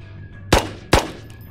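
Two sharp, loud gunshots roughly half a second apart from a firearm in the VR shooter Ghosts of Tabor, each with a quick decaying tail over low background hum.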